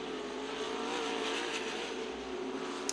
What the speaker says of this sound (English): 36 car making his way down the front straightaway.